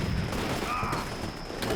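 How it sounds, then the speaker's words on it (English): Bursts of small-arms gunfire crackle in a Combat Mission Shock Force 2 battle around a mosque in Idlib, a few sharp reports over a constant noisy battlefield hum. "They're firing directly at the mosque here."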